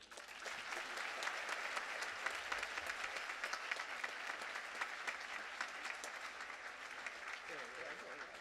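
An audience at a Babson College commencement ceremony claps steadily to welcome the speaker Bobby Sager, a broad, even wash of applause throughout with no break.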